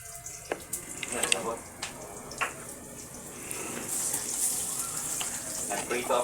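Lubot frying in a pan gives a close, steady sizzling hiss with scattered pops. The sizzle thickens toward the end, and faint voices can be heard in the background.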